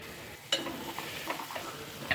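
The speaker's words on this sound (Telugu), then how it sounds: "అల్లం పేస్ట్ కొంచెం ఫ్రై అయిన తర్వాత వేసుకోవాలండి" Ginger paste frying and being stirred in a pan for a bitter gourd curry cooked with milk, a soft sizzle under a spoon scraping close by, with a sharper clink near the start.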